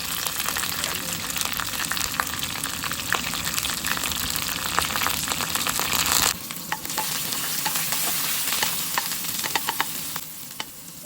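Mustard seeds, curry leaves, pandan leaves, garlic and onions frying in olive oil in a hot pan, with a loud, continuous sizzle and crackle that dips slightly partway through, plus occasional stirring clicks and pops.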